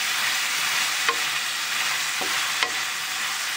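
Tomato and onion sauté in a pan with a loud, steady close sizzle and a few brief scrapes of stirring, with no talk.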